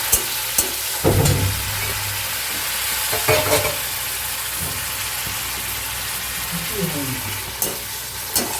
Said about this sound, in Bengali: কড়াতে এই ডিম ভাজার তেলের মধ্যে আমি যে পেঁয়াজটা গ্রেট করে রেখেছি, কোনো রকম ফোড়ন দেবো না, দিয়ে দিলাম